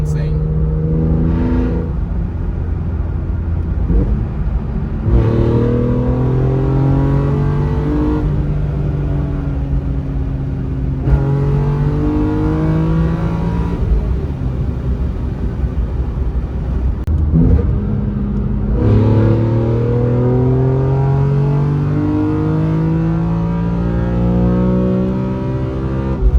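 A BMW E46 M3 CSL engine revs repeatedly toward 8000 RPM, its loud pitch sweeping upward again and again in several pulls, with a steady mechanical roar filling the whole stretch.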